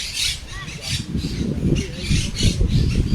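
Birds flying down to feed give harsh squawks and chirps in repeated bursts, fairly close, over a rough, rumbling background.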